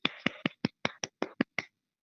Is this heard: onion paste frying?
no